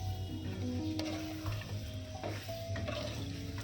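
Potatoes go into a pan for pulao and fry with a steady sizzle, while a utensil stirs and scrapes against the metal in the foreground.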